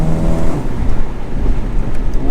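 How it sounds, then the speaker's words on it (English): Wind whooshing around a Mercedes A35 AMG while driving fast on back roads, a loud, steady broadband rush with low road rumble beneath, continuous and close. "you hear more wind and kind of whooshing"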